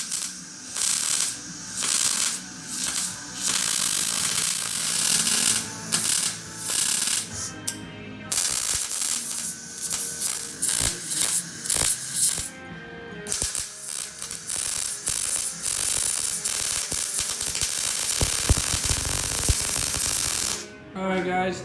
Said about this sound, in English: So we're gonna weld it in now.